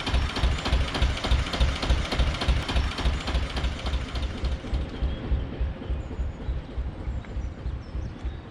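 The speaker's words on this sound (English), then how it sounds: "She'll be quite okay by here, just donking away, charging up my batteries with a lovely alternator." A narrowboat engine runs steadily to charge the batteries through its alternator, a close, rhythmic mechanical chugging and knocking that fades somewhat toward the end, with no voices.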